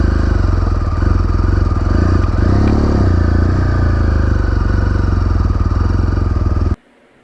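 A BMW R1200GS motorcycle engine runs close by with a loud, steady, throbbing idle and a brief rev partway through, then cuts off abruptly near the end.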